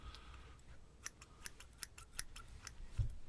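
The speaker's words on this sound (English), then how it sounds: "These are medical scissors." Medical scissors cut through string with several crisp, close snips in a quiet room.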